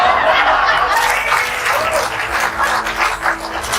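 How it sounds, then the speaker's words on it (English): A studio audience applauds in a dense, steady wash of clapping mixed with some laughter, sustained for several seconds at close range. "Terrible that you would applaud that."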